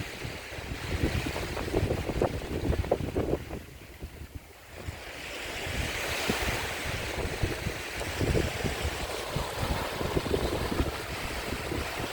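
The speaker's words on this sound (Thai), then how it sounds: "ลมแรงมาก" Strong wind gusting across Chao Lao beach at evening, buffeting the microphone over steady surf and breaking waves, loud and continuous with a brief lull midway.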